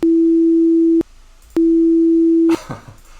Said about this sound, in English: I'll give you a pure tone at that so we can have a reference for what we're looking for